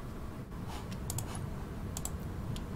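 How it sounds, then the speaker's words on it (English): Quick light clicks and keypresses from a computer keyboard and mouse during scripting in the game Infinite, a few brief taps scattered over steady low background hum. "that's just as fast as typing it if you click it fast enough"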